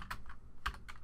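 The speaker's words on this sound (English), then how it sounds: "And we'll type in Trick or Treat" Quick, soft taps on a computer keyboard while entering text in Photoshop Elements, about four light keystrokes in a second, close and quiet with no talking.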